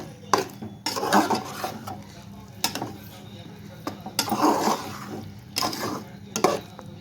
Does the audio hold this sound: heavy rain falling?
no